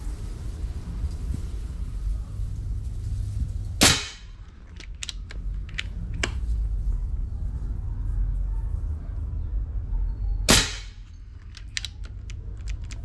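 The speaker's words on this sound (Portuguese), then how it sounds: "Acabaram-se os 10 disparos." A Leviathan 5.5 air rifle fires Aurok hollow point pellets in 10 m target shooting. Two sharp, loud shots ring out several seconds apart, with small mechanical clicks between them.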